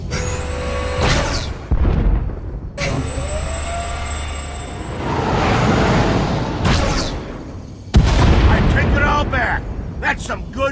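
Ship weapons firing in a space combat video game, heavy booming volleys and rumbling blasts with sweeping tones, loud and repeated across the stretch, under occasional voices.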